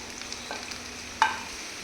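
Onions sizzle in hot coconut oil with curry leaves in a pan. A low, steady frying hiss is broken by one sharp clink near the end.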